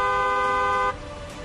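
A car horn blares once in a loud, steady tone for just under a second, then cuts off, leaving low background noise.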